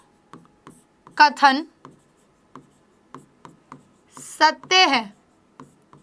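Pen scratching across paper while a maths teacher solves determinant questions, with a series of short, faint, evenly spaced strokes running under bursts of the teacher's speech.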